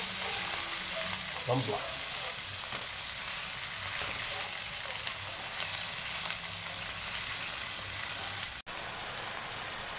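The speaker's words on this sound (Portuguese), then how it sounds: "Agora aqui nós vamos deixar ele dar uma fritadinha." Shrimp frying with onion and garlic in a pan, a steady, close sizzle that fills the whole stretch, with a few stirring clinks early on and a brief cut near the end.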